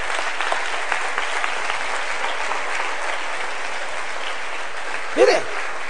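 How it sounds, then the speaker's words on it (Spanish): A church congregation applauds in a steady, even wash of clapping that holds at moderate loudness throughout, with a brief voice rising just before the end. "¡Qué aplauso más flojo!"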